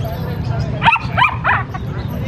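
Several short, sharp dog barks or yips ring out in quick succession over a low rumbling background at a pet and garden market in Bocaue, Philippines.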